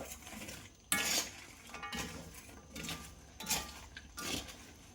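A sweet made with jaggery is stirred in a pan with a metal utensil, producing quiet, rhythmic scraping strokes and light clinks that repeat every second or so.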